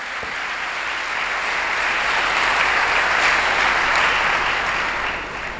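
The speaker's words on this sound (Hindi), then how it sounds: "जोरदार तालियां।" Loud, sustained applause from an audience at a church program, a dense wall of clapping that swells slightly in the middle and tapers near the end, with no talking over it.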